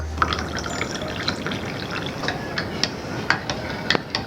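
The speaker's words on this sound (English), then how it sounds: "I'm gonna add more milk to this because this is super dark" Milk poured into a mug of dark hot cocoa made from a chocolate bomb, a gentle trickling liquid stream with small splashes and faint clinks, soft and close, with no speech.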